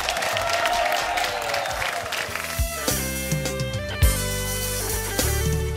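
Applause and crowd noise for a music group fill the first half, then a band's music takes over, with instruments and sustained notes continuing to the end.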